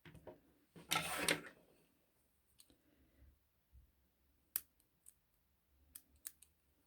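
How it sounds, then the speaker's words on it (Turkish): Scissors snip through crochet yarn while making a beaded crochet bracelet: a burst of cutting sound near the start, then a few sharp, separate clicks spaced apart in a quiet room. "Evet arkadaki ipi kestim"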